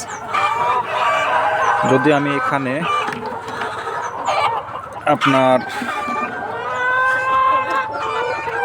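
Laying hens cluck and squawk loudly and continuously nearby, a busy flock of about 1,580 birds with occasional sharper calls, while a person speaks briefly over them.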